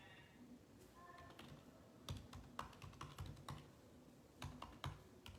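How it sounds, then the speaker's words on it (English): Hard, uneven typing on a computer keyboard, with bursts of sharp, close key clicks and pauses between them, and a soft tone heard briefly near the start. "Y'all hear me typing hard."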